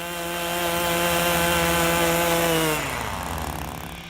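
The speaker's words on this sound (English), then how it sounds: "I'm using the Pro paddle attachment to scrape ice off the driveway" An Echo power tool with a Pro paddle attachment scrapes ice off a driveway, its small engine droning loud and close with a steady buzzing tone before it winds down partway through.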